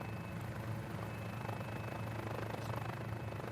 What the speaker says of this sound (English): It's a fun little helicopter, being so small.